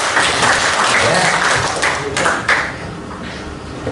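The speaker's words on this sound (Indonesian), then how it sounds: "Tepuk tangan dulu dong." A crowd of civil servants at a motivational training session claps together, loud, dense applause filling the whole stretch with scattered sharper claps and a few voices mixed in.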